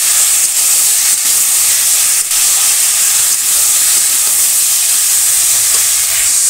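Fried cauliflower and tomato sizzling with spices in a pan in a village kitchen, a loud steady hiss that runs without pause, with a few faint clinks over it.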